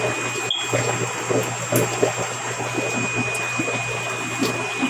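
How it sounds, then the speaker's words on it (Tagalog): Aquarium aerators and water pumps in a fish shop make a steady bubbling, watery hum with a constant mechanical drone and a faint high whine, loud and close. "Tapos meron silang mga aerator dito sa taas, mga water pump, kaya nandun sa dulo."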